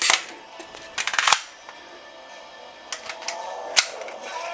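Toy gun made to work like a real one, with a replaceable magazine and ejecting shells: a quick burst of sharp clicking shots, then a few scattered single snaps, fairly close.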